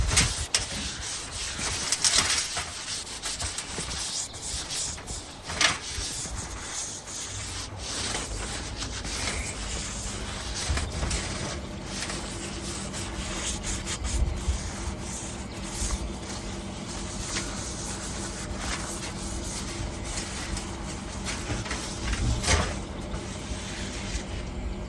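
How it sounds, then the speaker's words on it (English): Oil being wiped onto a ceramic bonsai pot with a cloth, producing soft, repeated rubbing and squeaking strokes against the glazed surface, close and quiet, with no talking. "Just wiping on oil to give that a bit of a sheen."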